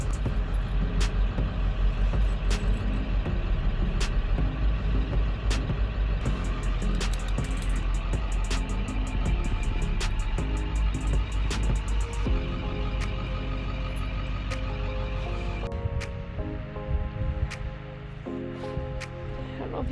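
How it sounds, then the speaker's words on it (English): A farm pickup truck with broken four-wheel drive spins its wheels in deep spring snow, its engine roaring and revving continuously with rattling and clanking for most of the stretch, then dropping to a lower idle. "So we just lost the 4-wheel drive. Broke something, and we're spinning out so bad we threw a chain."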